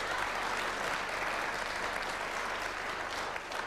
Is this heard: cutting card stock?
no